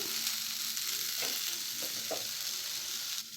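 An evening snack fries in a pan on the stove, a steady close sizzle with a few soft stirring scrapes, no talking.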